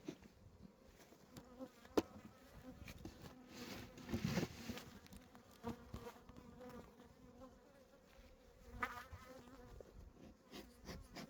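Honey bees swarm over an open LR beehive in early spring, a soft, continuous buzzing hum that swells and fades, rather faint and with no voices.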